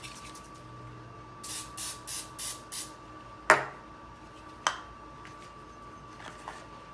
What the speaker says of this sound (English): Spray this.